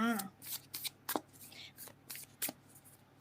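Oracle cards are shuffled in quick, papery riffles and flicks, sharp bursts with short gaps, close and fairly quiet, and a voice is briefly heard at the start.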